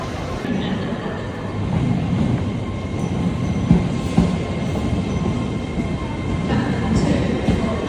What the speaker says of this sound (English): Just waiting for my train to arrive now.